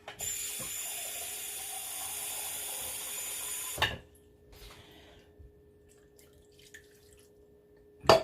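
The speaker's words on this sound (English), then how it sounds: "I'm going to put a little bit of water in the bottom of the pan" Water pours from a cup into the bottom of a pan of stuffed peppers as a steady splashing stream for about four seconds, then stops, followed by quiet handling sounds and a final clunk.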